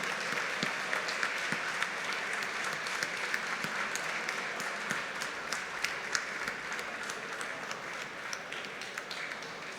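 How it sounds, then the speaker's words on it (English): A banquet audience at an awards ceremony claps in memory of Gerhard Kretschmer: a long, steady round of applause with individual sharp claps popping out of the dense wash, and no talking. "we'd like to remember Gerhard Kretschmer with a round of applause"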